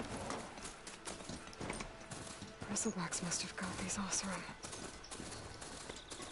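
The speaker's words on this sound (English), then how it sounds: "There's my horse." Horse hooves clip-clop at a steady trot amid outdoor ambience in the video game Horizon Forbidden West, with a person talking over them.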